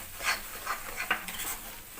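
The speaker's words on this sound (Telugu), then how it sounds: "రవ్వ రెడ్ కలర్ వచ్చిన దాకా వేయించుకుందామండి." Semolina (rava) for kesari is stirred and fried in a pan, with a metal spoon scraping and clinking against it in irregular strokes over a soft sizzle.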